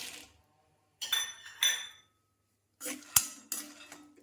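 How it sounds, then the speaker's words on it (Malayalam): Peanuts roasting in a pan with a tablespoon of coconut oil for a protein chutney, heard as short bursts of rattling, clinking stirs against the metal pan separated by brief silences. "പിന്നെ കപ്പലണ്ടി, അതായത് ഇത് നമുക്കൊന്ന് വറുത്തെടുക്കാം"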